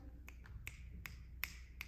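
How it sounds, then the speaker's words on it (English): Six crisp finger snaps at uneven intervals, close and fairly loud against a quiet room, performed during a theatre dress rehearsal of The Arabian Nights. "the sound of finger snaps"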